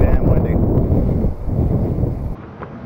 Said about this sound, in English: Too damn windy.